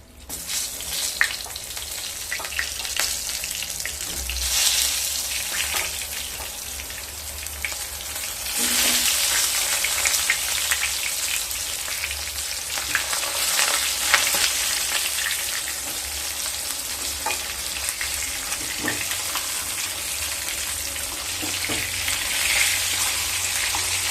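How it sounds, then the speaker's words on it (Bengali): Eggplant pieces coated with a little turmeric fry in hot oil in a pan, a continuous loud sizzle with surges as the pieces are stirred and turned. "বেগুনগুলোকে ভেজে নেব"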